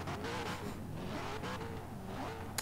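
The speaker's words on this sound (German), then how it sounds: "Aber ist ja der Corvette-Motor." A Corvette engine revs in the Forza Horizon 3 racing game, giving a low, faint, sustained engine drone with slight rises in pitch over a few seconds.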